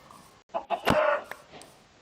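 A video game chicken clucks a few times in short, abrupt bursts, close and fairly clear, with brief quiet gaps and faint background noise.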